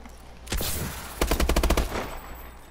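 Gunfire from a CUDA-like automatic weapon in Call of Duty Advanced Warfare: one sharp shot, then a rapid rattling burst of about a dozen rounds, loud and close, with no voices.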